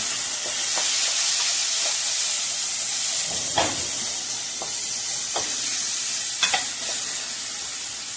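Julienned garlic sizzles in hot oil for a chickpea soup, a loud continuous hiss close by, with occasional spoon scrapes and taps of stirring throughout.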